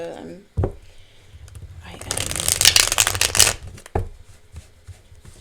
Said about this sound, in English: Shuffle crazy.